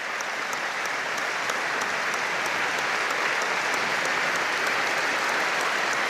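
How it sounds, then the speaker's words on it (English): Steady stadium crowd applause at Windsor Park during a football memorial tribute, a dense continuous wash of clapping filling the ground at even loudness throughout. "So we're having the applause."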